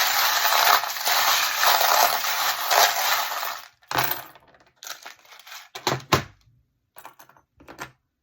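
Divination charms are cast and handled, first a steady bright rattle of small objects, then several separate close clinks and clatters in short bursts with silent gaps between them.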